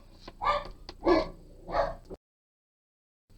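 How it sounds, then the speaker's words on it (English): Two dogs barking indoors, three loud close barks in quick succession, then sudden silence. "while the dogs barked"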